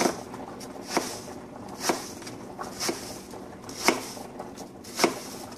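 A knife chops food on a cutting board in a knife-skills lesson, with roughly one distinct thud per second over a faint background.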